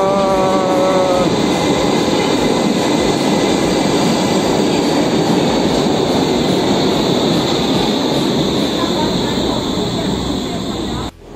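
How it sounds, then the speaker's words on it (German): A Berlin U-Bahn subway train rumbles loudly and continuously, with a rising whine at the start as it pulls in or accelerates, then sustained close wheel and motor roar until it cuts off. "U-Bahn!"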